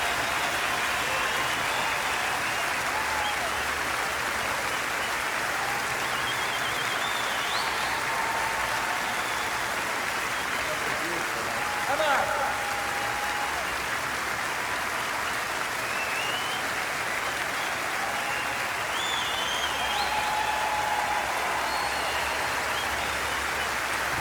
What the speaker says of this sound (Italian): Non finiscono più gli applausi.